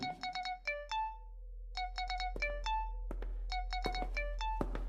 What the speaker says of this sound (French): Un appel téléphonique.